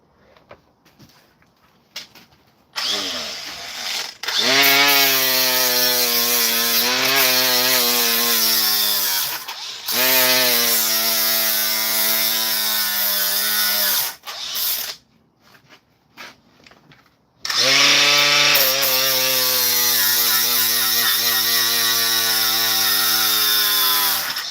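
A DeWalt Atomic cordless grinder set to 10,000 RPM spins up three times in close succession, each run a loud, steady whine that winds down when released, with short pauses between.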